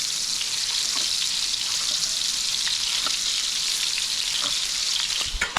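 Meatballs sizzle steadily in a skillet, a dense continuous frying hiss with small pops and crackles throughout, close and fairly loud, with no talking.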